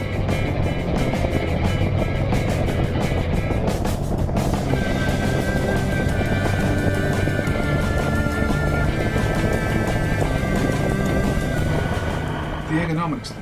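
A 1954 BSA A10 Golden Flash 650 motorcycle being ridden, its engine giving a loud, steady, full-bodied drone with broadband wind rush throughout.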